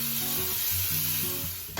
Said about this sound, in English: To the scallions, we are going to add our garlic. And we're going to saute this until it is fragrant.